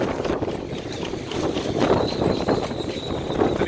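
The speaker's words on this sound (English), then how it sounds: "We're experiencing a wind event." Strong wind of about 50 knots roars continuously around a boat, a dense steady rush with gusting swells and a faint whistling tone throughout.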